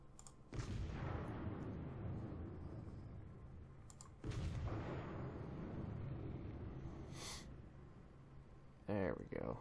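Weapon fire in the World of Warcraft video game lands as two heavy, booming bursts several seconds apart, with a brief sharp pop near the end and voices talking throughout.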